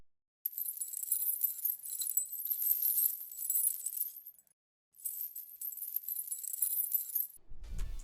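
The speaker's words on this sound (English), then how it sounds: "It's just this chain sound effect that sounds like this." Metallic chain rattle from a hip-hop beat in the Opium style, two bright jangling passes of clinking links separated by a short gap, ending with a low thump.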